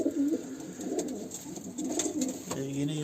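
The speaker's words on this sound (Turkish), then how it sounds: "Yumurtada yatan kuşlarımız var." Pigeons coo in a coop where birds sit on eggs, soft repeated throaty coos close by over a low background murmur.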